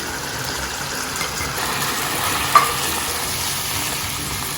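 Chicken with cumin powder, coriander powder, turmeric and chaat masala frying in a pan for a highway-style karahi, a steady close sizzle with stirring scrapes and one brief louder knock midway.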